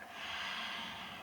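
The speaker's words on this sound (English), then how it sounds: "Enough of the sniffing." A person takes a long, close nasal sniff of red wine, a single breathy inhale lasting just over a second.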